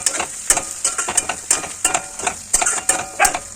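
Green chillies hit a hot pan while a spoon stirs them, bright sizzling frying under rhythmic scraping strokes that recur roughly every half second, close and steady with no voices.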